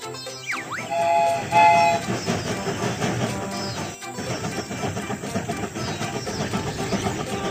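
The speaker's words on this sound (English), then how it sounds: "The train is about to start." A cartoon train sets off with a bright whistle toot, then a rhythmic chugging rolls on steadily over bouncy children's music, with no talking.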